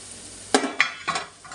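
Garlic tossed into hot oil in a pan for a raw banana fry, with a few quick stirring scrapes and bursts of sizzle over a quiet background.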